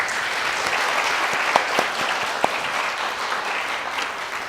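Steady applause from a university audience at a candidates' public debate for university president, broad and even throughout with a few sharper claps standing out.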